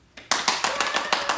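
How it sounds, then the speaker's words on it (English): Audience applause at a mock IMO assembly presentation: a burst of clapping starts abruptly and continues as a steady, fairly loud round of hands with rhythmic peaks, no talk over it. "please give us a big round of applause"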